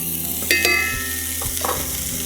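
Chopped spring onions sautéing in hot oil with a steady close sizzle, broken by a few sharp clinks and scrapes of a spoon or spatula stirring the pan.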